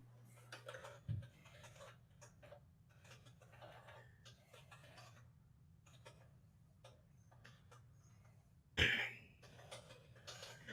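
Quiet keyboard typing runs through a low steady hum in a room, soft irregular clicks with a cough or sharp noise near the end.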